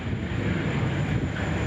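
Bombardier Global Express corporate jet taking off at Sydney Airport, a steady broad engine roar heard from a distance throughout.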